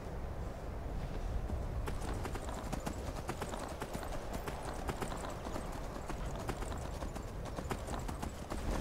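A horse gallops in Skyrim, its hooves pounding in a fast, steady clip-clop rhythm that stays close and constant throughout.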